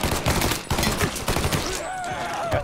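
Gunfire in Mafia 3 crackles in dense, rapid bursts, a close and loud volley of overlapping shots that runs nearly without a break.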